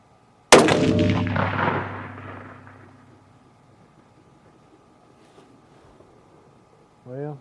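A single loud rifle shot from a .243 coyote rifle fired outdoors while sighting in a scope, with a sharp crack followed by a long rolling echo that fades over several seconds. A short voice is heard at the end.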